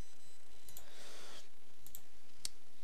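Mouse clicks while deleting files inside a Minecraft .jar archive, a few sharp, quiet, isolated clicks on a near-silent background with no talk.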